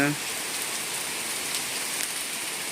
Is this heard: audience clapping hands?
no